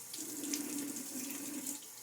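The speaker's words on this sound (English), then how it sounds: "a little water on my face." A bathroom tap runs steadily during a wet shave, with water splashing as it is scooped onto the face. The close, continuous hiss and patter carries on alone, with no talk.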